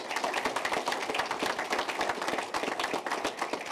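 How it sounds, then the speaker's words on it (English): An audience applauds the board at a Clemson NIL group announcement, steady dense clapping from many hands filling the room throughout, with no talk over it. "So let's give our board a round of applause."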